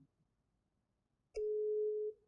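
A telephone call tone sounds after a short quiet pause, a single steady electronic beep held for under a second, clear and close, with no talking.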